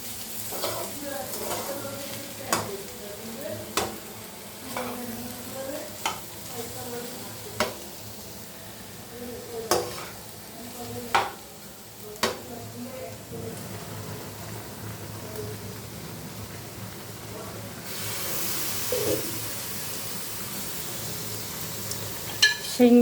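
Potatoes fry in a pan with a continuous sizzle. A spatula stirs them in regular scraping strokes every second or two, close up, and the sizzle swells louder near the end with no voices.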